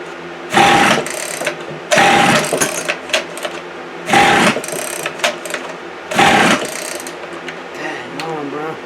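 A rough-running 2-cycle string trimmer engine, recovered from the trash, buzzes in four loud revving bursts with sputtering idle between, close by, while people talk over it.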